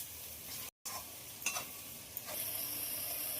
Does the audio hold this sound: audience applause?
no